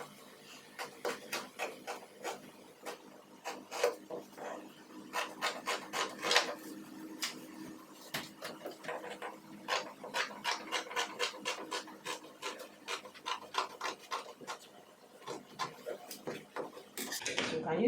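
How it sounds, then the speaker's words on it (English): Scissors cut through folded dress fabric in a series of short, crisp snipping crunches, close and fairly quiet, coming in quick irregular bursts with brief pauses between strokes. "So I'm cutting the back first."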